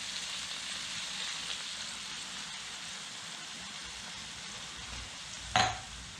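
A creamy chicken succotash with tomato, hot sauce, cream and butter simmers in a pot. It gives a soft, steady bubbling hiss, and a single sharp metallic clink sounds near the end.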